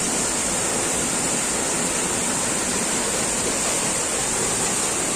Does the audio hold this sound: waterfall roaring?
yes